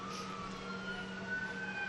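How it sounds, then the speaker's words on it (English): Emergency vehicle sirens wail faintly in the distance behind a youth baseball game in the dugout, a steady, low-level tone over quiet background noise with no talking. "Pay no attention to the sirens going to the background here."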